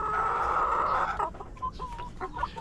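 Hens in a coop cluck nearby, a dense burst of clucking followed by scattered softer clucks and calls.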